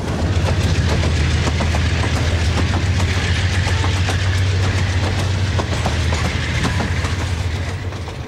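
A train passes through the station with a steady heavy rumble and a low engine drone, wheels clicking over rail joints at a regular beat, loud and close throughout before easing slightly at the end.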